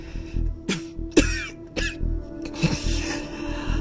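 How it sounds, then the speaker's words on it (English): Several sharp coughs from a woman, spaced irregularly with throat clearing between them, close and dry, over a faint background hum. "Layla coughed"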